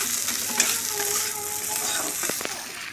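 Fish frying in a pan with fermented bamboo shoot, a steady close sizzle with faint stirring scrapes throughout, no talking.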